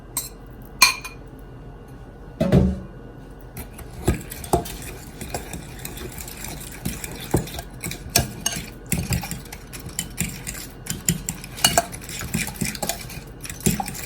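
Banana bread batter stirred in a mixing bowl, with a spoon clinking and scraping against the sides in irregular strokes, close and fairly quiet, with a sharper knock near the start.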